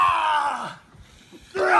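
A wrestler wedged in a chair contraption during a street fight cries out in pain with loud, strained yells, a short lull between two anguished bursts.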